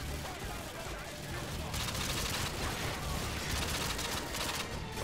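Gunfire from the video game Call of Duty Modern Warfare 2 crackles as a dense continuous fusillade, rapid shots blurring together at steady moderate loudness throughout.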